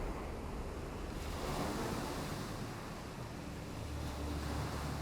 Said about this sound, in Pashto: په دې وخت کې سخت باد لګېده او دریاب طوفاني شو.